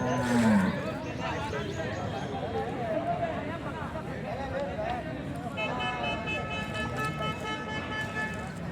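A Punganur cow moos once, briefly, at a cattle market, followed by people talking and a busy background of market noise.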